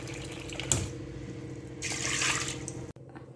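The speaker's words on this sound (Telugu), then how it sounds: "దాన్ని కుక్కర్లో వేసి ఇదే కప్ తోటి 2 కప్పులు వాటర్ వేసి నానబెట్టేసేయండి" Water is poured from a cup into a pressure cooker holding toor dal for Andhra-style pappu, a steady close splashing pour that swells midway and cuts off abruptly near the end.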